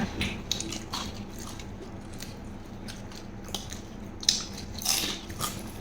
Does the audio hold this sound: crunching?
yes